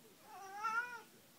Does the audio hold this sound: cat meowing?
yes